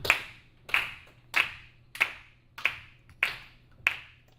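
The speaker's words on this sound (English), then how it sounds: "So first we're going to clap quarter notes." Seven sharp hand claps in an even quarter-note beat, steady and evenly spaced, close and moderately loud with brief decays, in a music class counting exercise.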